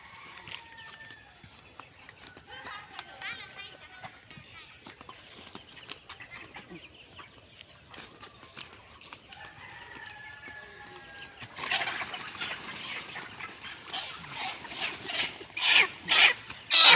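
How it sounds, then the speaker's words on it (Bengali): Chickens on a small poultry farm cluck and call in scattered, fairly faint bursts over a quiet background, with the activity growing louder and busier toward the end. "মুরগিগুলো ধরতে অনেক কষ্ট হয়"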